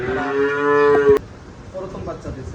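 A Holstein Friesian cow gives one long, loud, droning moo lasting about a second, ending abruptly, followed by quieter dairy barn background noise.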